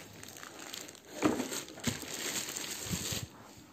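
Plastic bag rustling as Philips vacuum cleaner parts are unpacked, a soft steady crinkle with a few sharper crackles and handling bumps, close but quiet, with no talk.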